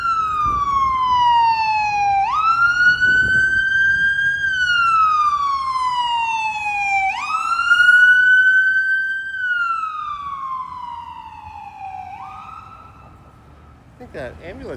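An ambulance siren wails through a Toronto intersection near Rosedale Valley. It sweeps up and down in long, loud cycles a few seconds apart over low street rumble, then cuts off near the end.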